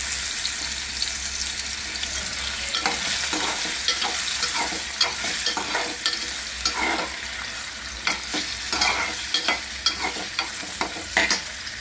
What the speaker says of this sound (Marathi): तर आपण प्रथम पॅन ठेवलं आहे त्यामध्ये तेल ठेवले आणि त्यामध्ये आपण हे बटाटे टाकायचे हे बटाटे आपण थोडे भाजून घेणार आहे